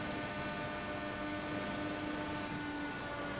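Car engine in iRacing during an IMSA race at Spa-Francorchamps, a steady droning hum with sustained tonal whine layered over constant broadband noise, continuous and even in level throughout.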